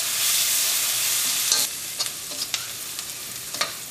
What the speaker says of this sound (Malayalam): ഈ സവാള ചെറുതായിട്ടൊന്ന് കളർ മാറും വരെ നമുക്കൊന്ന് വഴുതാം.